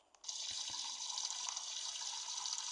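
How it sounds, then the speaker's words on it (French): A shower starts running, a steady hissing spray of water that comes on abruptly after a couple of faint knocks and continues evenly, fairly quiet and close. "Mais avant, une douche, non, juste une petite douche."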